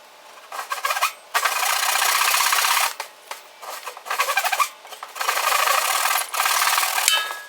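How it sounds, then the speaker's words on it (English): A belt sander shapes a curve into a rooftop tent base, giving loud, close, raspy grinding in several bursts with short breaks as the tool is pressed on and lifted off the wood. "take the belt sander and then shape your curve"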